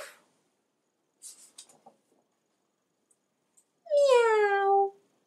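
A single drawn-out meow, clear and close, rising then falling over about a second, after a few faint scattered noises in near silence.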